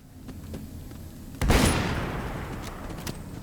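Gunfire against turrets in Fallout London: a few sharp shots, then a loud burst of blasts with a long ringing tail, followed by more scattered cracks.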